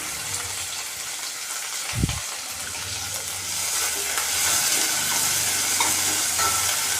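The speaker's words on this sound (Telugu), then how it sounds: "ఇది బ్రౌన్ కలర్ వచ్చినంత వరకు వేయించుకోవాలి" Three chopped onions frying in a pan for cabbage coconut curry, a steady close sizzle with a brief thump of stirring, the hiss swelling louder toward the end.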